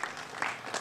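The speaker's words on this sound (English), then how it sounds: "Give Tim a round of applause." A short, loud burst of audience applause at the 2019 Illinois State Fair ribbon-cutting ceremony, many hands clapping together for under a second.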